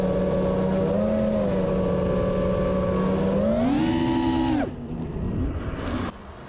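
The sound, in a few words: quadcopter motors on Racerstar 20 amp ESCs, 6S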